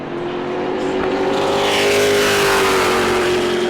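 A Pro Late Model stock car roars past at speed during qualifying at New Smyrna Speedway, a loud sustained engine drone swelling as it nears, close and alone with no voices over it.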